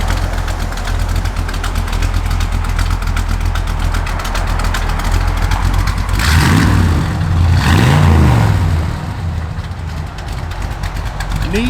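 A 1959 Chevrolet Apache pickup engine idles loud and close with a lumpy cam, its uneven rumble rising in two brief revs midway before settling back.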